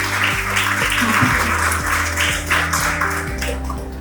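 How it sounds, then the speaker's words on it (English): Applause from an audience welcoming a guest onto a stage at a TRUST Group event: continuous crowd clapping over a repeating musical tone pattern, loud and steady throughout. "A big round of applause"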